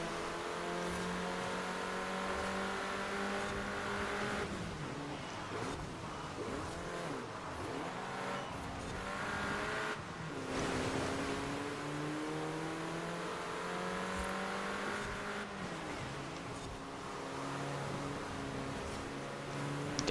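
A Volkswagen Golf races in Forza Horizon 4, its engine climbing and shifting through gears in steady revving sweeps, close and continuous, with brief dips between upshifts.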